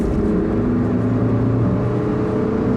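A 2017 Suzuki Swift 1.2 hybrid with Allgrip 4x4 accelerates at full throttle in third gear, its engine a steady, loud drone heard from inside the cabin with no talking.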